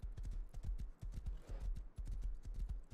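Steady, rhythmic clip-clop of video game horse hooves trotting, close and continuous, with a brief stumble in the rhythm midway.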